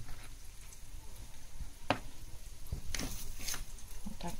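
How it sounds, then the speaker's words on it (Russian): Curd cheese patties rolled in flour fry in vegetable oil, a soft continuous sizzle with a few sharp crackles and a spatula scrape, close up and fairly quiet. "И обжариваю на растительном масле с двух сторон."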